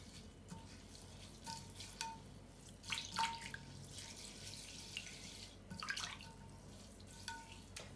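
Water runs from a tap into a larger pot to wash rice, with faint trickling and splashing in several short bursts close by against a quiet kitchen background.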